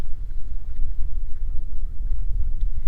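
Strong wind over cold open water buffets the microphone in a steady, loud low rumble with gusty swells, with no other clear sounds and no talking.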